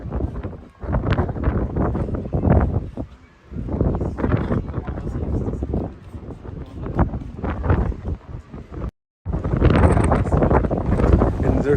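Strong wind gusts at the ancient Roman aqueduct of Pont du Gard in France buffet the microphone in loud, roaring bursts, broken by a few brief lulls and one sharp dropout.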